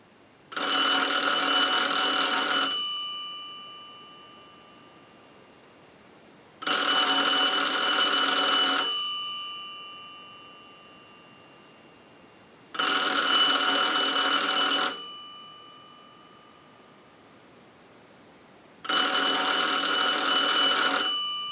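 A Cincinnati Bell payphone rings in four long electronic bursts from a test ring cycle sent by an analyzer, separated by pauses of several seconds, loud and close, with nothing else around it.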